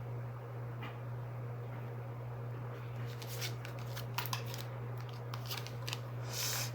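Tarot cards are shuffled and drawn close by. Soft papery riffles and crisp snaps come in bursts during the second half over a steady low hum, with no talking.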